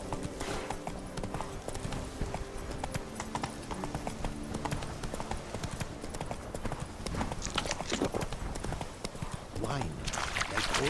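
Horse hooves clip-clop steadily in The Witcher 3 as a mount trots along, a rapid rhythmic beat under a voice speaking and ambient game sound.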